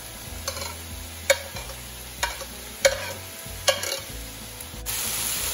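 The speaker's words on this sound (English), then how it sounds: "do you hear the sizzling sound?" Vegetables, bell pepper and celery, sizzle in a hot pan with sausage while a utensil stirs and scrapes in regular strokes, a soft steady frying hiss underneath.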